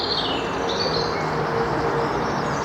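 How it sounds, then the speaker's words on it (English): Blackbirds and a robin singing in mixed woodland on a spring walk, faint overlapping birdsong set against a steady outdoor hiss. "decent splash of blackbirds singing, robin"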